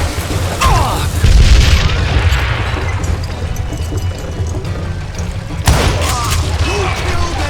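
Gunshots ring out in the western shooter Call of Juarez: Gunslinger as heavy booming reports, one early and one later, over a dense rumbling background.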